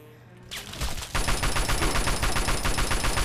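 Sustained automatic gunfire in the video game Fallout 3 during a fight with brutes carrying a minigun, starting with a few shots, then a loud, steady, rapid stream of bursts at close range with no talking.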